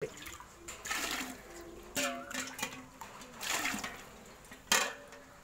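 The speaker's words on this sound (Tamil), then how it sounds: "இப்போது தண்ணி வந்து ஒன்றரை லிட்டர் தண்ணி ஊற்றணும்" Water being poured into flour for boondi batter for Diwali comes in several splashy, uneven bursts with short pauses between them, close and fairly soft.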